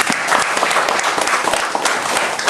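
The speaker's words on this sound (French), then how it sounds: "C'est quelque chose pour applaudir à Dieu." Applause from a church congregation fills the space, a dense, steady wash of many hands clapping close by, with no break from start to end.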